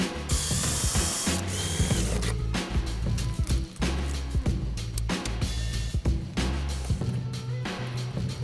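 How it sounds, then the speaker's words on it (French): Manual rivet nut tool being screwed to crush a rivet into place, producing close, loud rapid ratcheting clicks in repeated bursts with short pauses. "Voici la riveteuse manuelle que j'ai utilisée. En vissant, le rivet s'écrase et reste en place tout seul."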